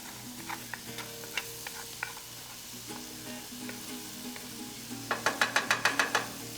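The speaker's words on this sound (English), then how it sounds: "this is 8 ounces of pork chorizo. We're gonna add it to our skillet." Eight ounces of pork chorizo sizzles in a skillet, a steady soft frying crackle with a few clicks, then a quick run of sharper scraping taps near the end as it is moved.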